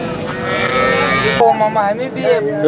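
Cows mooing loudly and close, several drawn-out calls overlapping amid the busy Sangola cattle market in Maharashtra, with faint voices in the background.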